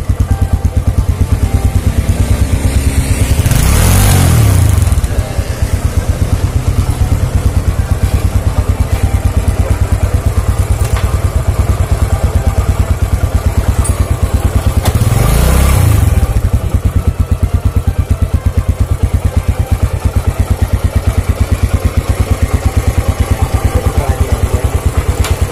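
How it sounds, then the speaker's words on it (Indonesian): A 2004 Suzuki Smash 110 motorcycle, restored, idles with a close, loud steady putter, revved twice in sharp swelling bursts that quickly fall back to idle. "Coba digeber."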